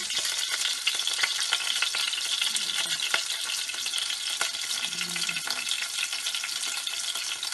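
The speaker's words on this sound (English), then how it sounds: "So what I'm going to be doing is adding the onions that have been cut into wedges first." Onion wedges frying in a hot pan, a loud, steady sizzle and crackle close up, with faint stirring scrapes and no talk.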